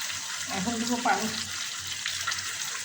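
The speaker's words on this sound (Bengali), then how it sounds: "এখন দেবো পানি" Water poured into a cooking pot of meat and potatoes for Bangladeshi biryani: a steady, close splashing rush lasting a few seconds, with a voice talking briefly over it.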